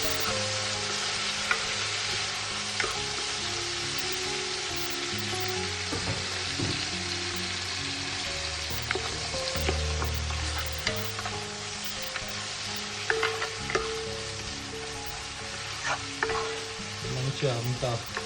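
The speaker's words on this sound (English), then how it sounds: "we'll stir this off for a bit." Spices for chicken mandi sizzle and crackle steadily in a hot pan, with occasional scraping as they are stirred.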